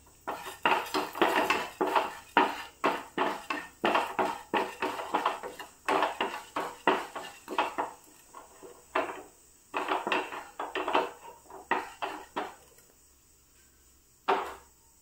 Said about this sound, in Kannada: 1 ಟೇಬಲ್ ಸ್ಪೂನ್ ಅಷ್ಟು ಉರ್ದಿನ ಬೇಳೆಯನ್ನು ಹಾಕಿ ಫ್ರೈ ಮಾಡ್ತಾ ಇದ್ದೇನೆ